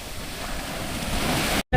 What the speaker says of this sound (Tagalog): Na tubig dito, maalon lang.